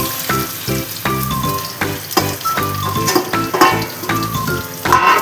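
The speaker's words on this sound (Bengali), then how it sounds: "তেল গরম হয়ে গেছে, এবারে আমগুলো সব ফেলে দেবো।" Mango pieces drop into hot oil for a mango chutney, a busy crackling fry with repeated clattering hits and sputters, close and fairly loud throughout, with no voices.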